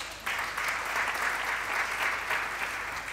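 A church congregation claps and cheers to acclaim the Lord, a dense, even wash of applause rising in at once and holding steady, heard from some distance.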